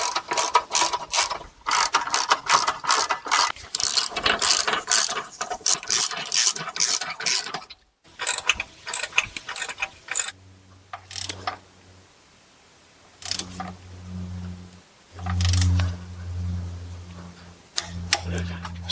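Ratchet clicking in quick bursts while tightening bolts on a Chrysler Town & Country 62TE transmission, loud and close, broken by pauses and brief low mechanical hum.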